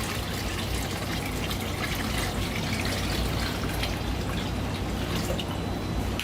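Five gallons of aquarium water poured from a container into a new coral quarantine tank, a steady close, continuous splashing gush that runs for the full length with no talking.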